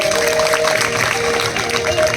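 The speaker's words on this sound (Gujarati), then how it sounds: "તો એમનું પણ આપણે સ્વાગત કરીએ છીએ તાળી દ્વારા." An audience at a Shrimad Devi Bhagwat Katha religious discourse claps steadily and densely to welcome guests. The applause is loud and continuous throughout, with no speech over it.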